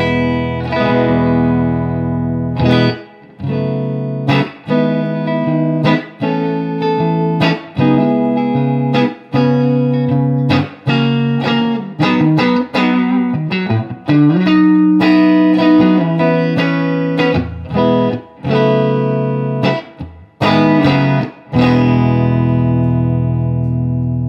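Electric guitar, a Jerry Jones SC-3 with lipstick pickups through a 1968 Fender Super Reverb, plays chords and single notes with audible reverb and echo trails, loud and close, with brief pauses between phrases.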